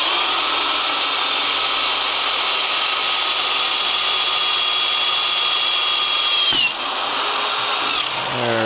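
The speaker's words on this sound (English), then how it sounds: "just start drilling until it comes out the other side" A high-pitched power drill whines steadily up close, boring through metal for a Powerglide drag race transmission part, its tone shifting slightly as it bites, then a brief clunk and the drilling carries on.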